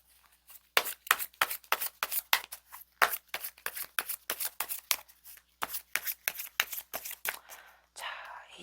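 Tarot cards are shuffled close up in quick, crisp riffling bursts with brief pauses between them, ending in a softer rustle.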